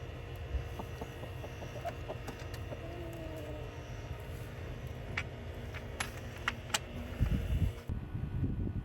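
A rooster and hens cluck in a backyard flock at night, faint and somewhat distant over a steady low background rumble, with a louder burst of movement near the end.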